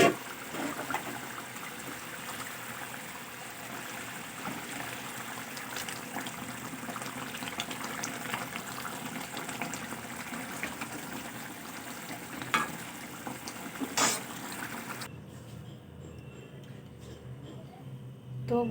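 Bengali fish curry gravy bubbles away in a pan, a soft, steady simmering texture with small pops running throughout, fairly quiet and close, before cutting out near the end.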